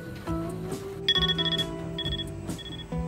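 Electronic kitchen timer beeping while ravioli cooks, a series of bright repeated tonal beeps in quick rhythmic bursts, fairly clear against light background kitchen noise.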